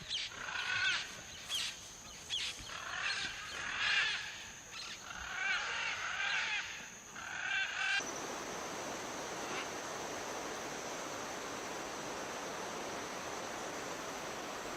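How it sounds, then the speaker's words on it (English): Blue and yellow macaws in a Central American park give harsh, repeated squawking calls for about eight seconds over a soft outdoor background. A steady, rushing noise like a waterfall or wind follows and fills the rest. "The blue and yellow macaw, with its colorful lazuli-colored wings, is a common bird in South and Central America."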